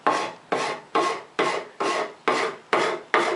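A hand rasp shapes a wooden stool seat in eight evenly spaced strokes, each a sharp scraping rasp that fades before the next, close and loud with no talking.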